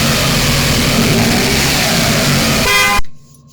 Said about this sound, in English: And now to hear the power of the engine of the Mr.